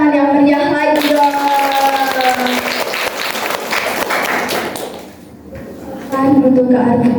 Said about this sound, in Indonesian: Beri tepuk tangan yang meriah lagi dong.